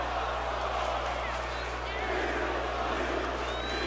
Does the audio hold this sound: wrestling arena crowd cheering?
yes